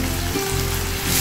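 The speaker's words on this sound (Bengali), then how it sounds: "তেল গরম হয়ে গেছে, এতে আমি আগে আলুগুলো ভেজে তুলে নেব।" Potato pieces frying in hot oil for a traditional Bengali dish, a steady dense sizzle and crackle, loud and close, with no talking.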